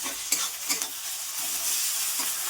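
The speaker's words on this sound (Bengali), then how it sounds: "রসুন বাটাটা দিয়ে দেব, আদা বাটাটা দিয়ে দেব, দিয়ে কিন্তু একটু ভালো করে ভেজে নেব।" Garlic and ginger paste fries in hot oil with onions for a Bengali chicken kosha, a close, steady sizzle broken by a few scraping stirs of the spoon.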